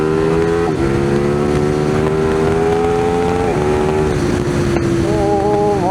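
A Kawasaki motorcycle roars loud and close under hard acceleration, its engine note rising through gear changes, with a sharp exhaust crack near the end.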